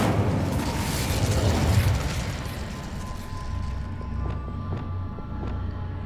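A fire spell cast in the Hogwarts Legacy video game, a loud, full rumbling whoosh of flame that swells then settles into a steady crackling roar with a few sharp ticks, no voice over it.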